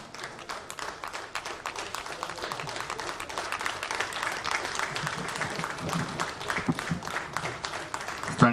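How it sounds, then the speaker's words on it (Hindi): An audience at an Independence Day event at the Rourkela steel plant gives sustained, steady applause for COVID warriors, many hands clapping in a dense crackling rhythm from start to finish with little talk. "आमे तांको करताली दे उत्साहित करिबा"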